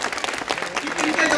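An audience at a Hindi patriotic poetry recital gives poet Sumit Singh of Vidisha a brief, dense burst of clapping, with voices mixed into the applause.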